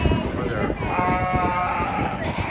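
Sheep bleating at a junior youth fair in eastern San Diego County, a sustained wavering bleat in the middle of the stretch over crowd chatter and nearby voices.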